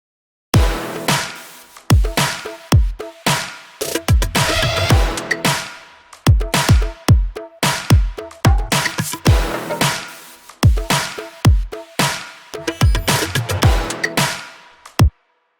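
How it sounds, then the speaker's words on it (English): A punchy electronic drum pattern with booming kicks, snappy hits and hi-hats, playing a varied, syncopated groove loudly with no talking. "This is how the variated drum pattern sounds like."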